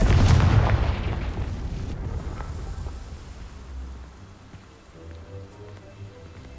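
A Confringo fire spell blast in Hogwarts Legacy bursts loudly at the start as a booming, crackling explosion, then trails off into a rumbling, rain-like crackle of burning that fades over several seconds.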